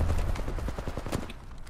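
Rapid gunfire from a video game shooter rattles out in a quick burst of close, sharp shots that fade toward the end.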